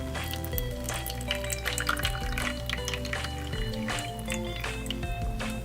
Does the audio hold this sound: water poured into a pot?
yes